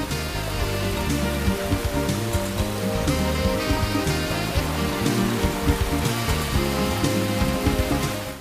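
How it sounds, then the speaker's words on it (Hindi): Rain falls steadily in Pakistan, in cities such as Islamabad, Lahore and Faisalabad, as a continuous loud wash with faint patters and no voices. "इस्लामाबाद, लाहौर, फैसलाबाद में बादल खुलकर बरसे।"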